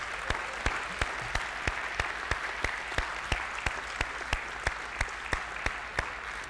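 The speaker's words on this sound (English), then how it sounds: "One more applause for them," At the ISU SSP22 opening ceremony, an audience gives a steady round of applause, a dense even patter of many hands with a few crisp, regularly spaced claps standing out near the microphone.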